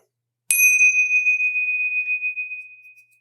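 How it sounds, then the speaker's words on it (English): A single bright bell-like chime from an iPhone strikes once and rings out, its clear tone sustaining and slowly fading over a few seconds. "I think I hear the last bell."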